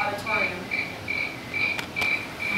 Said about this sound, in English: There is a sound of crickets coming over the sound system all over the auditorium.